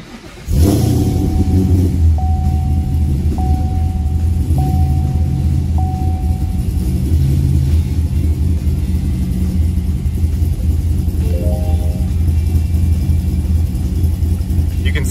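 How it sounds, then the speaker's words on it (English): A 2017 Camaro SS 1LE with a big-cam V8 fires up from cold with a sharp starter bang, then settles into a loud, steady, lopey idle with rhythmic choppy pulses close to the microphone, running alone without talk. "I will just fire it up so you can hear this car run with the cam."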